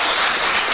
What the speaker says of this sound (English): They cheer every move he makes.